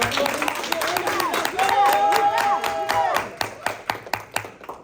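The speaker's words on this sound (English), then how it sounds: "Let's clap them up" Audience clapping, at first blended with a crowd voice and talk, then settling into distinct rhythmic hand claps toward the end, moderately close.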